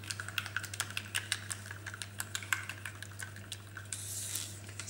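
Thick metallic acrylic paint being stirred in a cup, a quick run of close, regular tapping and scraping strokes over a low steady hum, with a brief wetter swish near the end.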